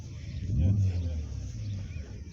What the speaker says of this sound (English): You can hear the Lancia revving up there.